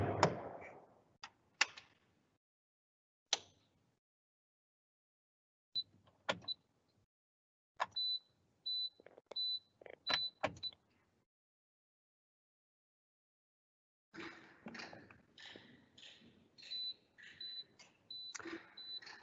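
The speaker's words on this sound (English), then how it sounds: "this is the beeping sound that earlier I was trying to get" Short electronic beeps from a Navistar truck engine diagnostic session repeat at intervals among clicks and clunks, with long quiet gaps, then a denser run of beeps and tapping near the end.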